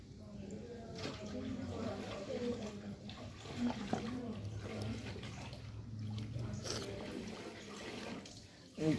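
Tap water runs steadily into cupped hands while a child's face is washed, a soft continuous splash under an adult's voice and a voice.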